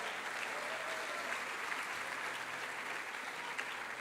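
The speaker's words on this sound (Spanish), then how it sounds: "Dele un aplauso al Señor por eso." A church congregation applauds during a sermon, a dense, steady wash of clapping at a distance that stays fairly faint and holds at one level throughout.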